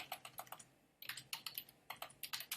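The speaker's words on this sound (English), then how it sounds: "let's type this up here" Rapid typing on a computer keyboard, quiet and close, with crisp key clicks in quick bursts and a short pause about a third of the way in.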